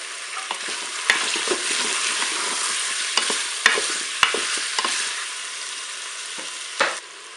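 Chicken pieces and garlic brown in a Cookeo multicooker, giving a steady close sizzle with scattered scraping and stirring knocks and no talk.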